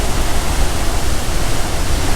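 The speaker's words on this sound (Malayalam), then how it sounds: "ഇപ്പം എൻ്റെ മുഖത്തേക്ക് അത്യാവശ്യം നല്ല രീതിയിൽ വെള്ളം തെറിക്കുന്നുണ്ട്." Athirappilly waterfall in Kerala roars as a loud, steady broadband rush close by, with spray splashing constantly and no voices over it.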